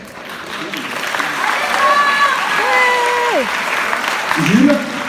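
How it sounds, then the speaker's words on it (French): An audience applauds the ninth and last group at a school eloquence event, steady clapping throughout with whistles and cheers rising over it and voices mixed in. "on peut applaudir très fort le neuvième et dernier groupe."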